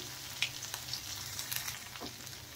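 Spices with asafoetida, crushed ginger, crushed garlic and chopped green chilli frying in oil while being stirred, a quiet, steady sizzle broken by soft scrapes and taps of the spoon.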